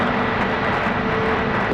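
A jet airplane roars steadily on the runway at Raleigh-Durham airport, a loud, continuous broadband engine rumble with no talk over it.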